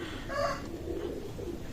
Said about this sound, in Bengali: আমি ডাবালা কবুতর দেখাচ্ছি